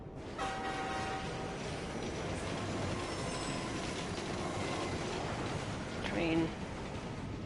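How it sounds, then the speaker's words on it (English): A metro train in Assassin's Creed Unity rumbles past with broadband roar, a brief wheel squeal at the start and a louder screech near the end, steady and fairly close. "Train."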